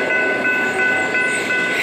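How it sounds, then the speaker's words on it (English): A train rolls past at close range with a loud, steady rumble and high, squealing tones like brakes grinding on the rails, continuous throughout. "Said the train was coming."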